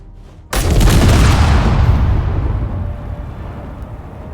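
A warhead in the Space Engineers game explodes after being shot: one sudden, very loud boom with a deep rumbling tail that slowly fades over several seconds, heard alone.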